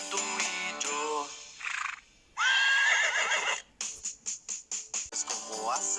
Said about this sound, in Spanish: Dime si tú sabes cómo hace el caballo